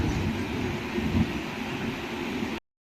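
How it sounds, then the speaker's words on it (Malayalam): Train ride heading toward Ernakulam, with a steady, loud rumble of the moving carriage filling the whole stretch and no one speaking. "അങ്ങനെ ഓടി പിടിച്ച് ട്രെയിൻ കയറി."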